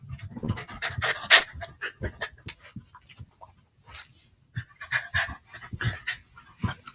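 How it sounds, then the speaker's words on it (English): A dog pants rapidly and close up in a quiet room, with quick rhythmic breaths, a few soft whimpers and light jingling of tags or keys. "My dog has decided to join me."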